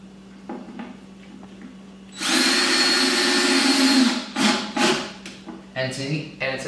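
A power drill drives a screw into a pilot hole in wood, a loud whirring burst of a couple of seconds followed by short drill pulses, with a person talking before and after.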